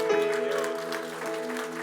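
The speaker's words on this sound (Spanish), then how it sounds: "¿Cuántos pueden darle un aplauso fuerte al Señor?" A church congregation claps together in a sustained burst of applause, with music playing softly underneath.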